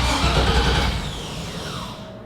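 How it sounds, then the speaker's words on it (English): An engine cranks and catches, a loud rough churn at first that settles into a steadier running tone, heard alone without talk. "Engine crank."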